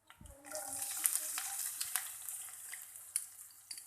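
Cumin seeds with chopped ginger and chillies sizzling in hot oil, a soft steady crackling hiss with scattered sharp pops, fairly quiet and close with no talk.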